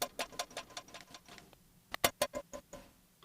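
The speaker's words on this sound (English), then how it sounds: "I'm hitting the metal with my hand, I believe." A rapid series of short, sharp metallic taps from a hand hitting the metal of an old crane, pitched up two octaves and shortened, high-pitched and clicky, in two uneven bursts separated by a brief pause.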